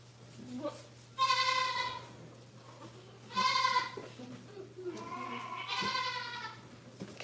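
Nigerian Dwarf dairy goats bleat close by, three drawn-out, nasal calls spaced a couple of seconds apart over a steady low hum.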